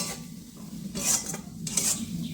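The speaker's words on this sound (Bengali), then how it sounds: "ভালো করে নাড়া দিয়ে আমি এই মশলাটা পাঁচ সাত মিনিট ধরে কষাবো" Masala for egg curry being stirred and sautéed in a pan, a low steady sizzle with two bursts of spatula scraping against the metal, close and moderately loud.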